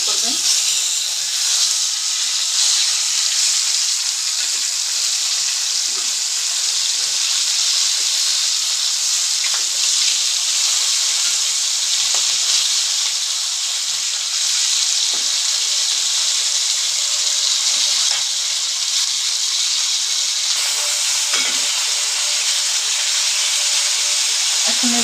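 Tilapia fish fries in hot oil in a kadai, giving a loud, continuous hiss and sizzle with faint crackles throughout. A voice speaks quietly now and then beneath it.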